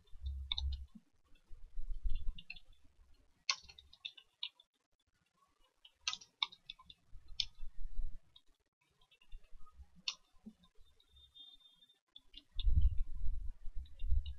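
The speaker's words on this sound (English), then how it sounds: "you just have to click space in your keyboard, and when the subtitle ends, click space again" A computer keyboard's space bar pressed repeatedly while making subtitles, giving sharp plastic clicks scattered through the stretch with pauses between, over soft low thumps and no speech.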